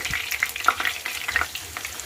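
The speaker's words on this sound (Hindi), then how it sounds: "इस तरीके से आप उलट पलट करते हुए प्याज को फ्राई कर लें।" Onions sizzle steadily in a hot pan while a spatula stirs and scrapes them, giving a close, continuous crackle with soft intermittent turning sounds.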